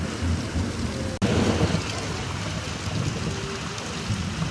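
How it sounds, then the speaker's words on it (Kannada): Heavy rain pours down steadily in Koppal as a thunderstorm hisses along. A brief sharp break cuts the sound just after one second, then the dense downpour continues. "ಸುಮಾರು 1 ಗಂಟೆಗೂ ಹೆಚ್ಚು ಕಾಲ ಭಾರಿ ಮಳೆಯಾಗಿದೆ."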